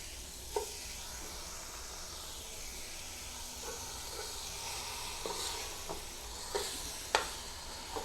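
Beef ribs sear in a hot pot with a steady sizzle and hiss, broken by a few sharp clinks and scrapes as they are stirred, with no talking.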